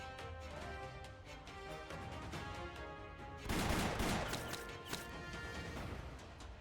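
A gunfire volley rings out in the video game Arknights: sharp overlapping shots crackle over music, building to a dense, loud burst midway, followed by scattered further reports.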